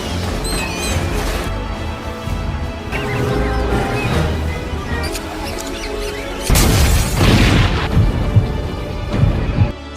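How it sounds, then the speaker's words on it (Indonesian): Rats blowing up inside a textile factory in an action film scene, heard as a sudden loud explosive burst midway, followed by rumbling, crackling debris over a busy, dense soundtrack. "Setelah beberapa tikus meledak"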